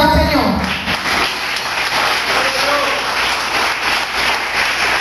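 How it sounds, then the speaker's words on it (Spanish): Congregation applauding for the Lord at an evangelical church service, a steady wash of many hands clapping at moderate loudness throughout, with voices mixed in. "Dale un fuerte aplauso al Señor."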